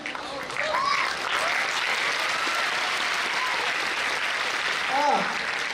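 Audience applause at a Marathi motivational talk, a steady wash of clapping from a crowd lasting throughout, with faint voices and calls rising over it near the start and end.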